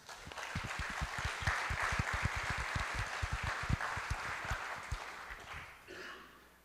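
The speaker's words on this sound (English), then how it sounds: "How about a round of applause" A crowd breaks into sustained applause, many hands clapping in a dense, steady patter that fades out toward the end.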